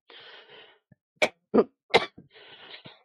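A man coughs several times in short, forceful bursts, close and fairly loud, between stretches of noisy breathing or throat sounds, with no speech.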